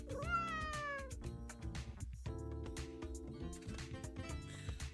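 A cat meows as a sound effect in the video game Hidden Cats in Istanbul. A bright, close meow comes first, then several more short meows over a busy background of game music.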